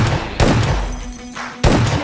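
Gunfire in the mobile battle-royale game PUBG Lite, an S12 shotgun among the weapons: a few loud, close blasts about a second apart, each with a short rumbling tail and no talking.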